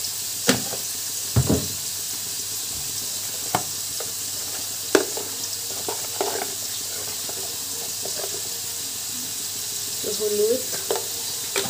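Paneer cubes fry in a pan with salt and turmeric, giving a soft, steady sizzle broken by sharp clicks and scrapes of stirring. Someone speaks briefly over the cooking.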